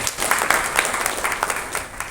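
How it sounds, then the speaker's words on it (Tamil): Audience applause at a product launch event honouring a woman named Latha, a steady wash of many hands clapping at moderate loudness for about two seconds with no speech over it. "லதா அவர்களுக்காக. ஒரு கைத்தட்டல்."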